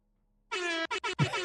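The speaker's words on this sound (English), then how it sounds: "Play the air horn" An air horn sound effect blasts as one long honk, two short bursts and a final sustained blare, loud and close with nothing else around it.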